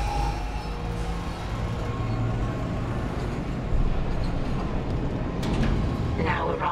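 Tram in the Dead Space remake arriving at the flight deck station, a steady low rumbling roll that swells slightly near the end with some metallic clatter and hiss, loud and continuous.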